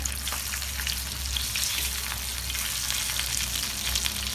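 Chicken frying on a tawa makes a steady, dense, close sizzle with fine crackling that holds evenly from start to end, with no voices.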